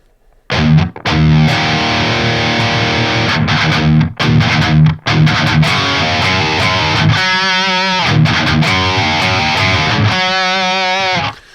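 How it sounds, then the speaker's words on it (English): Bright, cutting electric guitar switched from humbuckers to single-coil pickups, crisp single-coil bite, played loud and alone in distorted chords and ringing sustained notes, with brief pauses between phrases. "I had to change it from humbuckers on the guitar to single coil"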